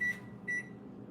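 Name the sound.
kitchen timer beeping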